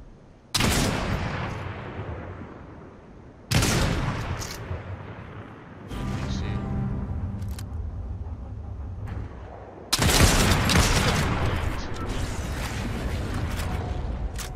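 Bursts of gunfire in the Fortnite video game, several loud separate volleys with sharp onsets, each fading into a rumbling tail, plus a stretch of mechanical clatter in between.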